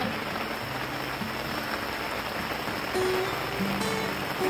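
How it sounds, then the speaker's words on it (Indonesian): Heavy rain pours steadily at a lakeside campsite at Ranca Upas, Ciwidey, a dense continuous hiss of drops on surfaces that swells slightly toward the end, with no talking. "Si hujan gede tuh."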